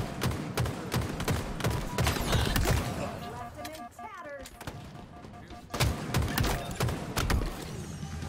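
Gunfire crackles through a capture-the-flag video game match in sharp, rapid bursts of shots, dropping out briefly mid-way before a fresh volley erupts, loud and close, with indistinct voices in the mix.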